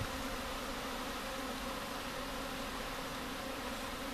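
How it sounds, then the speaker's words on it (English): Dense, steady buzzing of many honey bees swarming close around a hive, a continuous hum with no pauses. "it's probably pretty full of bees and honey"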